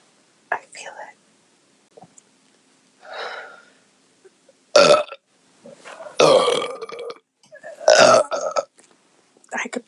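A woman's beer burps, several loud, raspy belches spaced across the recording, with quiet breathy whispers and small gasps between them.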